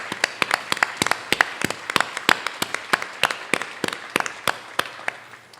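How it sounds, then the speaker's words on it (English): An audience at a Kirkland community appreciation celebration applauds steadily, a dense run of sharp hand claps from a crowd, loud and continuous for several seconds with no talking. "Please stand and welcome the applause of your community."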